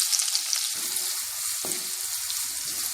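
Small onions go into hot oil in a pan for chicken noodles, producing a continuous close sizzle and frying hiss with a brief clatter partway through.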